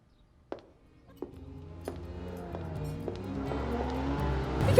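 A car approaches and drives up, its engine sound rising steadily from quiet to loud and close, with a few sharp knocks or clicks early on and no talk.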